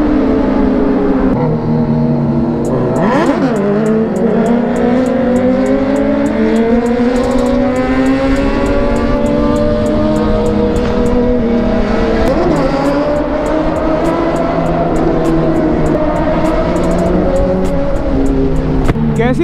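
A Kawasaki Z900 motorcycle revs loudly through repeated wheelies, its engine note climbing and dipping in long sweeps with sharp throttle surges. It stays close and continuous for the full stretch, with no voices.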